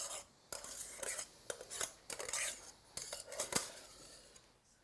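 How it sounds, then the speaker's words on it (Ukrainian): A spatula folds whipped egg whites into a Ukrainian gingerbread batter in a bowl with soft, irregular scraping strokes and light clinks of utensil on bowl, fairly quiet and close. "І легкими рухами вмішуємо, не перемішуємо, а лише вмішуємо білки в основну масу"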